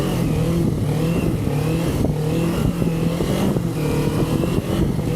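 A motorcycle engine runs steadily at low speed and low RPM, a continuous close, loud rumble with a faint rising rev near the end and no talking.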